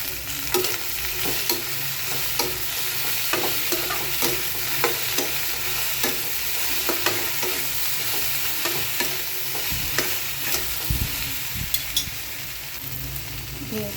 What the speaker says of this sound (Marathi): आता आपण त्याच्यामध्ये ही भेंडी टाकूया